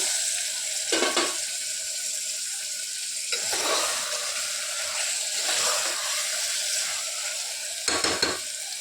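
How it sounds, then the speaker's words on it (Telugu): Mutton dropped into a pan of softened tomatoes for curry, sizzling and frying steadily, with a few louder stirring and splashing bursts recurring across the stretch, close and alone without talk. "ఇప్పుడు ఇందులో మనం వాష్ చేసి పెట్టుకున్న మటన్ యాడ్ చేసుకోవాలి"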